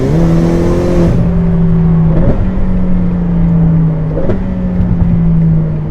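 A loud, close Ferrari F8 Tributo with a Ryft exhaust drones with a deep rumble, its pitch dropping in steps as the car downshifts, with sharp exhaust pops between shifts.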